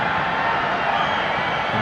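Large stadium crowd of about 12,600 at a Nepal vs Myanmar women's football match in Dashrath Stadium, a steady loud roar of many voices throughout with no clear cheering peaks.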